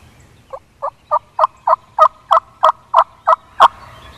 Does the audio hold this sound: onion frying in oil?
no